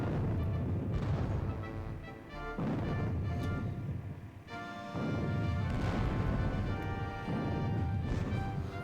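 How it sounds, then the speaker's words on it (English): French artillery fire in a Battle of Borodino war game: repeated heavy booming cannon blasts with rumbling tails, several rolling volleys in sequence, loud and continuous with no talk. "That French artillery is definitely causing me issues, as it's just blowing chunks in,"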